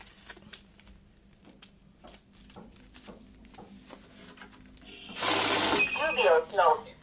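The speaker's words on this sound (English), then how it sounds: "As soon as it detects the fake note, it will stop the machine" A currency note counting machine with fake-note detection runs briefly as a bundle of rupee notes feeds through it, giving a loud whirring, fluttering burst that stops after about a second, amid scattered clicks and handling noise.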